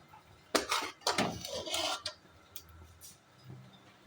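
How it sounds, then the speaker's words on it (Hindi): Kadhi pakora being ladled from a cooking pot onto a plate, with a few close metallic scrapes and clinks of a spoon against the pot and dish, then quieter handling. "प्लेट में निकाल रही हूँ"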